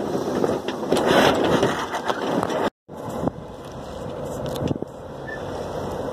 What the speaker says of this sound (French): j'ai mis le moteur.